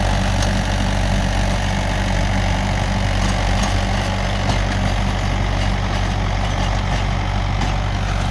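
A Mahindra 415 DI tractor runs a 36-blade rotavator through farmland, giving off a loud, steady, low diesel engine drone with constant mechanical churning that holds throughout.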